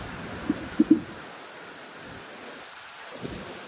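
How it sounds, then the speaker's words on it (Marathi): Heavy rain falls in a steady, moderate hiss at a roadside shelter, with a few sharp knocks early on and a low rumble toward the end, no voices. "किती जोरात पाऊस चालू आहे बघा"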